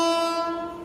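A passing train sounds a sustained horn blast near Tirupati, loud and close, fading slightly as it continues.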